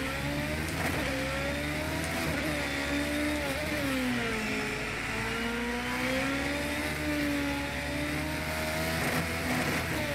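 Formula-style race car engine in the sim racing game Project CARS 2, a continuous high revving whine rising and dipping through gear changes, steady and fairly quiet, without talking.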